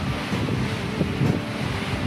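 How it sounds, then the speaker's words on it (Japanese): Pacific Ocean waves breaking and washing back on the rocky shore at Jogashima, a continuous near roar of surf mixed with strong wind buffeting the microphone. "寄せては返す潮の音が本当近くで聞こえてきます。"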